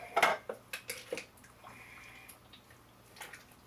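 Canned mini corn is stirred into chicken penne in a pot: several sharp spoon clinks against the pot come in a quick run at first, then softer, wetter stirring sounds follow.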